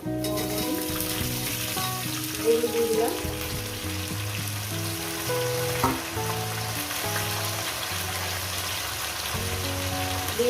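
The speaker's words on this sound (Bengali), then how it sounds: "এটাকে সবজিটাকে ভেজে নেব" Mixed vegetables, including potato, green chilli, beans and pumpkin, fry in a wok for a Bengali katla fish-head chochchori. There is a steady sizzle throughout, with faint background music and occasional clinks of utensils.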